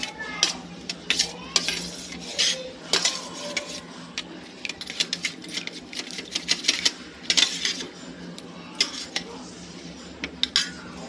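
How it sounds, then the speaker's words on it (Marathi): Curd with ginger and chilli whisked in a bowl, rapid irregular metallic clinking and tapping strokes in bursts, close and clear, with no talking. "हे बघा मी अशी फेटून घेतली आहे दही आणि अद्रक आणि मिरची"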